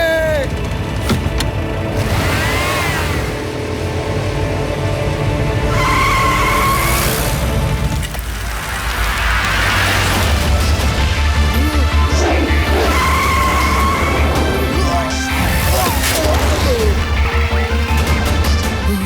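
Cartoon jeep speeding with skidding, squealing tires, a loud continuous engine roar and repeated tire screeches under background music and effects, with no one talking.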